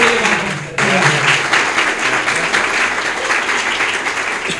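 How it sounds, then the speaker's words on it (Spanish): Audience at a book presentation breaks into loud applause to welcome a speaker, the clapping starting sharply after a brief moment and continuing strongly throughout. "Le brindamos un fuerte aplauso, le damos la bienvenida a José Pérez Bamonde."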